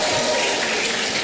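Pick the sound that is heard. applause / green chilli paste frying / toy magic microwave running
applause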